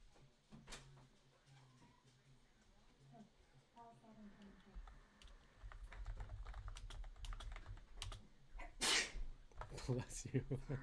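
A single sharp sneeze bursts out near the microphone during a live horse-racing prep broadcast, set among keyboard typing, clicks and background chatter.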